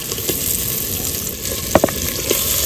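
Pieces of desi chicken drop into a pot of sizzling onion, tomato and turmeric masala, giving a steady frying hiss with a few sharp splatter bursts near the end, close and fairly loud.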